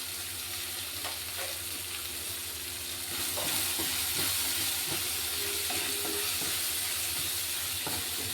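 Chapati pieces frying in a pan with turmeric and salt, a close, continuous sizzle broken by scraping stirs and light clinks from the spoon, with no voices.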